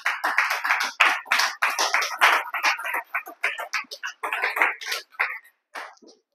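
A church congregation claps loudly and steadily in praise of the Lord, a dense burst of hand claps that thins out into scattered claps and then stops near the end.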